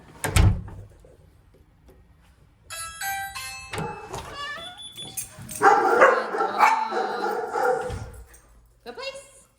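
A dog barks in short, sharp bursts during an obedience training session at home, with a door-like thud near the start and a person speaking at times between the barks.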